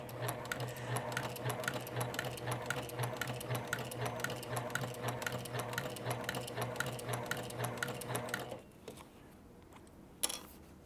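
A sewing machine works slowly through four layers of thick vinyl, giving a close, rhythmic stream of heavy needle thumps over a low motor hum. The stitching stops near the end, leaving quiet and then one sharp click.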